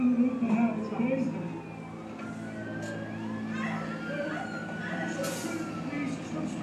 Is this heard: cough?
no